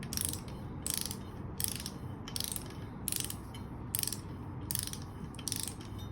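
A ratcheting torque wrench tightening bolts on a Smart 450 engine, a close, crisp clicking in quick bursts repeated at a steady pace of about one per second.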